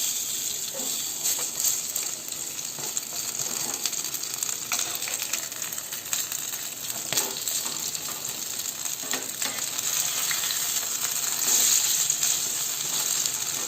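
Brinjal pakora fritters frying in oil on a medium gas flame, a continuous close crackling sizzle with scattered sharp pops and occasional stirring clinks throughout.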